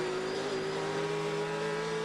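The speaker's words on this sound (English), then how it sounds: "Well, that was a DP going by." A Daytona Prototype race car passes during the 12 Hours of Sebring, its loud engine drone heard steadily throughout from onboard a Ford GT, with a slowly rising pitch and no talk.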